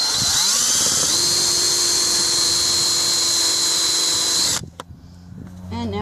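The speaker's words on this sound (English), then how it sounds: "it's just got blades that swivel around and shave the head" A Gesipa rivet shaver whines loudly and steadily as its swiveling blades shave a rivet head on a vintage Airstream. It cuts off abruptly after about four and a half seconds, leaving faint clatter.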